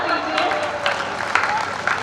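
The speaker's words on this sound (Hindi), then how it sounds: "एक बार उनके सौंदर्य बोध के लिए आप तालियां बजा दीजिए।" Audience applause at a Hindi poetry recital, a kavi sammelan in Budhar, rolls on as a steady wash of clapping with a few sharper bursts, voices murmuring beneath it.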